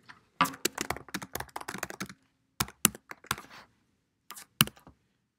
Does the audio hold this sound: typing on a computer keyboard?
yes